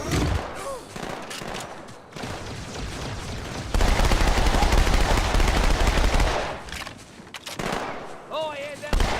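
Turret gunfire in Halo 2 erupts as a loud, dense barrage in the middle, with shouting voices and other game sounds before and after it.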